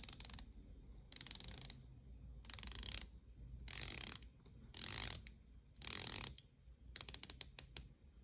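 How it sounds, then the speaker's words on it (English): Ceramic bezel on a Ball Engineer Hydrocarbon Submarine Warfare automatic dive watch being turned, giving six bursts of crisp close ratcheting clicks separated by short pauses, then a run of quicker single clicks at the end. "Bezel action."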